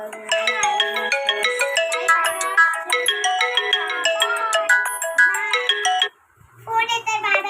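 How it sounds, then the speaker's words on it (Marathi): A bright melodic phone ringtone repeats loudly close by, pausing briefly before it resumes, while a child and an adult talk over it. "फोन येतोय"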